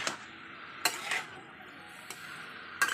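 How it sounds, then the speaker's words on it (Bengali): A utensil mashes boiled, salted ash gourd in a pan, giving a few sharp metallic clicks and scrapes spaced apart against a quiet kitchen background, with no talking. "আমি চাল কুমড়োটাকে ঘেটে নেব"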